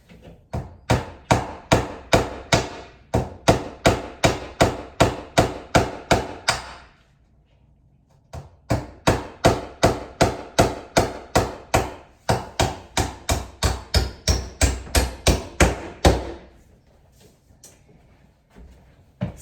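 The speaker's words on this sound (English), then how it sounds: "I want to just put nails all along the edges to hold the edges down." Nails are hammered into an old plaster wall in a 1929 fixer-upper house: two long runs of sharp, evenly spaced blows, loud and close, separated by a brief pause.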